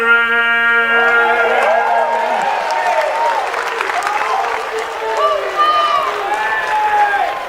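A crowd at a softball game applauds and cheers after the national anthem, a steady wash of clapping and scattered whoops that holds loud throughout, with a sustained horn-like tone fading out early on.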